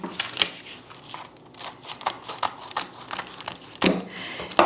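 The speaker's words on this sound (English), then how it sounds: "so I'm just cutting it into quarters." Scissors snipping through a sheet of fruit leather to cut it into quarters, a series of soft, close, irregular cutting and crinkling sounds.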